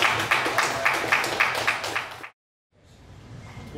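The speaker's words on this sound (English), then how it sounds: "Let's give a big round of applause." Audience claps at a startup pitch event in Dallas, rhythmic hand clapping for about two seconds that cuts off abruptly into silence, then faint room noise returns.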